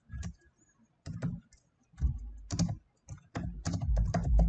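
Computer keyboard typed on in short bursts of clicking keystrokes, close and fairly quiet, with brief pauses between runs and a heavier flurry toward the end.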